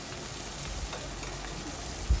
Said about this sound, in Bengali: এবং দুই পাশ ভালো করে ভেজে নিতে হবে।